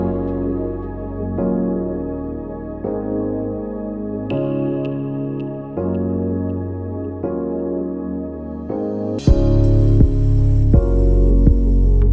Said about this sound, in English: In sewing the strap, make sure that the part where you have the joining is facing up